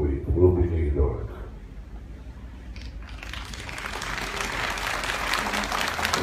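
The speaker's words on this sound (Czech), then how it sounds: "Gentleman, který tu otázku položil, tleská" Audience applause at a public meeting between the Czech president and citizens in Bystřice nad Pernštejnem, starting faint and swelling into steady, dense clapping from a hall crowd after a voice speaks in the opening second.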